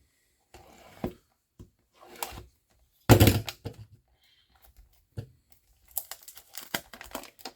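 Packaging crinkles and crackles as a One Piece card game box is opened, in short scattered bursts with pauses between them, close and fairly loud.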